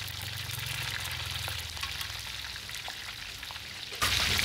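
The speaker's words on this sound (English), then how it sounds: "Frying it with pandan leaves." Steady, crackling sizzle of food frying in hot oil with pandan leaves at a street stall in Bangkok's Chinatown, close and continuous, with a brief louder burst of spattering near the end.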